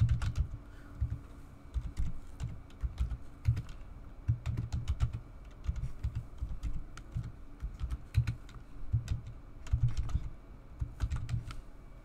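Rapid bursts of typing on a computer keyboard while an administrator password is entered, close and clear, with short pauses between runs of keystrokes and no talking.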